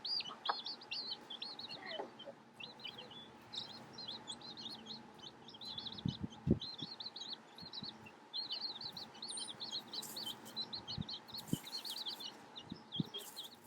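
A broody hen and her small chicks outdoors give a steady stream of high, close peeping chirps with occasional low clucks and soft knocks underneath, running throughout without any voices.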